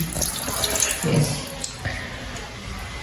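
Pots being washed by hand with soap and gloves under a running tap, steady water splashing with a few clatters of cookware, close by and fairly loud, no talking.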